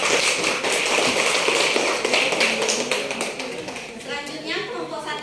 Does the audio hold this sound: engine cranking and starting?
no